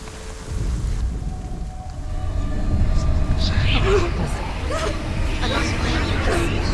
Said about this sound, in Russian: Какой классный дождик начался.